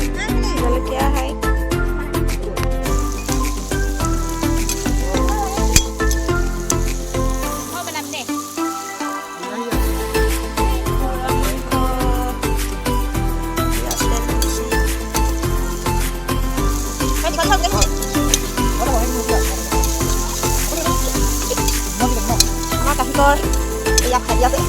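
Food sizzles and is stirred in a pan at an outdoor New Year's Eve picnic, a loud continuous frying hiss with scraping and clinking, while music and voices carry on underneath throughout.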